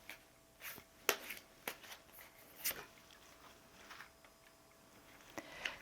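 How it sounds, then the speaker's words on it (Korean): Tarot soul cards are shuffled and drawn, giving faint, close, crisp flicks and light taps scattered irregularly over a few seconds. "제가 소울 카드 한번 뽑아 보겠습니다."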